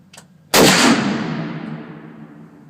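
A single powerful elephant gun shot goes off near a shooting range, a sudden loud blast followed by a long rolling echo that fades slowly, with a brief faint sound just before it.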